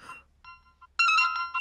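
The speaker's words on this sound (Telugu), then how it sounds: "మళ్ళీ వీడు ఫోన్ చేశాడు." A phone ringtone sounds for an incoming call: a short melodic burst, a brief pause, then a louder sustained ringing phrase of bright tones, with no speech over it.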